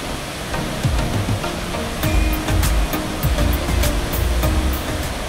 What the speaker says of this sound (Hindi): अभी सिर्फ डैम के 2 ही गेट खुले हैं, लेकिन पानी की रफ्तार इतनी तेज़ है कि उसकी गूंज चारों तरफ सुनाई देती है।